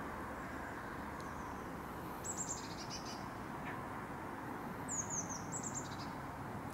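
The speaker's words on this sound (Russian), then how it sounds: "Слышите, как поют птицы?" Small birds chirp in short, high twittering phrases at a distance on a sunny autumn morning, heard twice over a constant low outdoor rumble.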